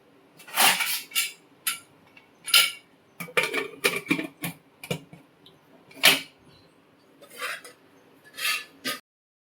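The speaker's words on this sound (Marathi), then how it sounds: "थोडं झाकण लावते आणि 1 शिटी देते." A metal lid clatters and clanks onto a pressure cooker holding paneer biryani, with several sharp, separate knocks and scrapes heard close up and with nobody talking.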